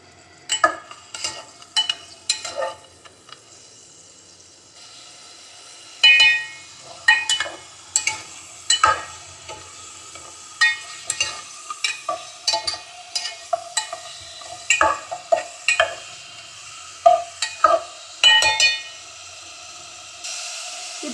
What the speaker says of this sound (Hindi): इसको आपने फ्राई करना है, यानी कि इसको इतना भूनना है इसमें